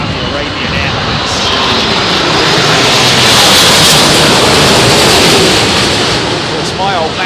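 A Saudi Arabian Airlines jet airliner lands at Heathrow, its engines producing a loud, broad roar that swells and then fades slightly, with wind noise mixed in.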